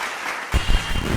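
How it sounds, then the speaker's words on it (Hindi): Audience applause welcoming a guest onto the stage at a farmers' forum on potato cultivation, breaking in abruptly after a quiet moment and continuing as a loud, dense clatter of clapping. "एक बार ज़ोरदार तालियां सर के स्वागत में बजा दें"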